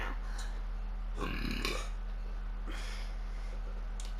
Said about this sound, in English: Excuse me. I burped.